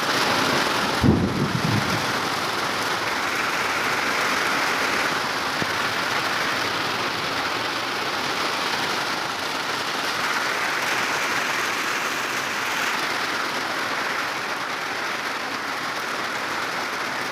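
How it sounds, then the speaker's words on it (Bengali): Steady rain pours down outdoors, a broad even hiss that continues throughout, with a brief low rumble near the start. "বলতে না বলতে সেই বৃষ্টি হচ্ছে বাইরে, দেখো।"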